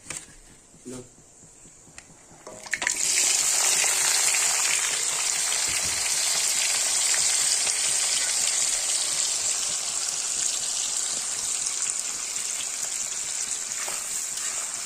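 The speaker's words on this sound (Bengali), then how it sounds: "দিয়ে দেবো পেঁয়াজ রসুন আর কাঁচা লঙ্কা তেলের উপর।" Onion, garlic and green chili drop into hot oil for a Bengali mutton kosha, bursting into a loud, steady hiss that rises sharply after a quieter start with some talk and holds without pause.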